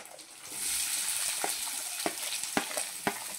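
Chopped onions and green chillies frying in a pan of oil for a Telugu prawn (royya pottu) curry, a steady close sizzle with a few sharp crackles and stirring scrapes, no talking.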